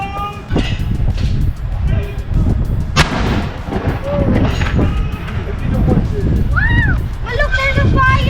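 Naval gun aboard the warship HMCS Haida fired during a demonstration, heavy booming blasts over loud crowd noise and outdoor rumble, with people talking and shouting around it.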